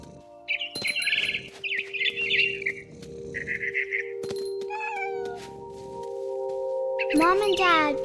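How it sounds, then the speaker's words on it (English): Short bursts of barn swallow chirping from the video game What Remains of Edith Finch repeat over a steady electronic hum, with a cat-like meow near the end; several high trills come and go. "Then I heard chirping outside my window. It was a barn swallow going back to her nest."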